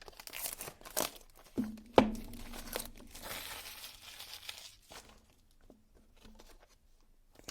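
Packaging around a new Valkyrie knife being unwrapped up close: quiet bursts of crinkling and tearing, with a few sharper rips early on, then softer rustles trailing off.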